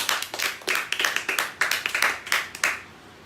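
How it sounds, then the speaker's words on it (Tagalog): Church congregation clapping together during an online Sunday service, a run of sharp, fairly regular hand claps of moderate loudness that thins out and stops near the end. "Palakpak naman tayo isa."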